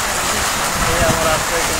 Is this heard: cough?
no